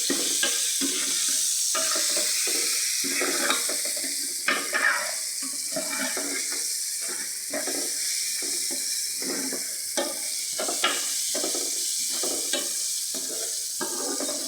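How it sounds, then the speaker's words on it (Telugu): A spatula stirs turmeric and salt through cabbage fried rice in a pan, with steady rhythmic scraping strokes about once a second over a constant sizzle, close and clear. "పసుపు వేసుకొని ఒకసారి మళ్ళీ కలపాలి"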